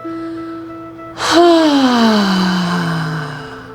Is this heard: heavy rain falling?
no